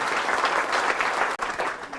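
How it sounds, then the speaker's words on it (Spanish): A church congregation breaks into loud, dense applause, a steady wash of clapping that fills the whole short stretch. "Fuertes aplausos"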